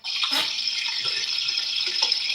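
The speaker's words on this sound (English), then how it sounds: "You want to hear my water go into my life straw?" Tap water pours steadily into a LifeStraw filter, a continuous close hiss and splash at constant strength, with a few small bubbling knocks and no voices.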